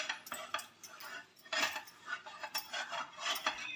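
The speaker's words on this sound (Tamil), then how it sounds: "கை விடாமல் வந்துட்டு கிளறுங்க" Close, busy scraping and clinking of a spoon stirring milk peda mixture in a heavy pan, irregular bursts of metal-on-metal scrapes in quick succession.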